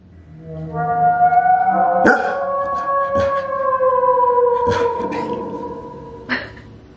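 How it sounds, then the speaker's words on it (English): An Alexa smart speaker plays a whale vocalization, long sliding moans and wails that rise and fall, loud and close, broken by a few sharp clicks or knocks. "What sound does a whale make?"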